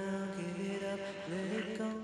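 A clean Space Echo tape delay track from a studio recording plays sustained, layered musical tones that bend slightly in pitch, a smooth, steady sound at moderate level with no voices.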